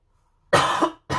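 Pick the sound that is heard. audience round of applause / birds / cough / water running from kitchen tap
cough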